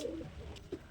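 Pigeons cooing briefly, a couple of soft low coos heard close by in a loft where black giribaz pigeons are kept.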